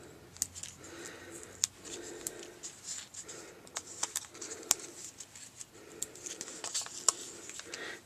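Scissors cut thin strips of paper for a stamped paper doll card, quick close snips scattered throughout over a soft background of pigeons cooing, no talking.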